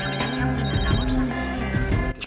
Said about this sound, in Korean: 직장에서 근무하던 도중 한 통의 전화를 받게 되는데